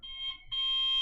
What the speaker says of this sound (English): Oh god, I think they've set up a fire alarm.